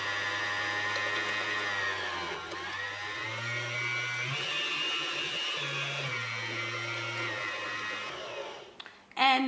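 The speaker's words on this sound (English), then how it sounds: "continue winding your bobbin" A household sewing machine winds a bobbin with a steady, high whirring hum and shifting motor tones, close and continuous, ending with a few clicks.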